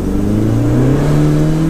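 A 38-year-old Ford Fiesta Mk1 Supersport engine rises in pitch as the throttle is tapped, a loud, close, continuous revving drone heard from inside the car with no talk.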